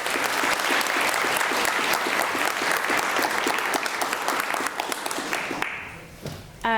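Audience at the 2019 EPS Frith Prize Lecture applauding warmly to welcome the lecturer, a dense, steady clapping from a full room that thins and fades out over the last second.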